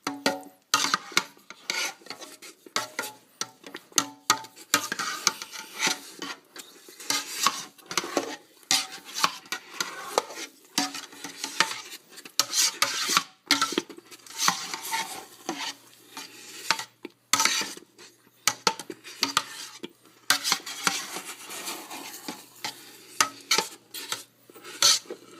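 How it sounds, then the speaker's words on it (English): A thickening green tapioca dessert mixture is stirred continuously in a pot, producing dense, rapid scraping and rubbing strokes of the utensil against the pan bottom, close and busy throughout. "Continue stirring."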